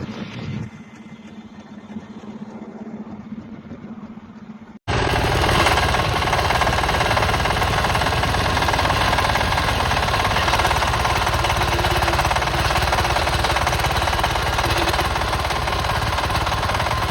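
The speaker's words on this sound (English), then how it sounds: "A road marking machine lays down a raised guideline built to be seen and felt." A road marking machine laying a raised guideline on the road. After a quieter opening, a loud, continuous mechanical rattle cuts in abruptly and holds steady and close.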